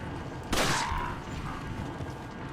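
A single sharp gunshot from Resident Evil 4 cracks out loudly, trailing into a brief ringing tail over a low game ambience, with no talk during the shot.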